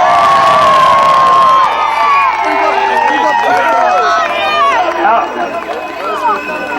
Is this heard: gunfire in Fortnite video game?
no